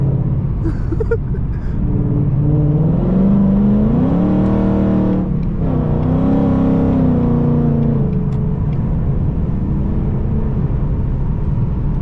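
A Dodge Durango engine revs loudly and close by, its pitch climbing and swelling in a couple of rising pulls before easing back into a throaty rumble.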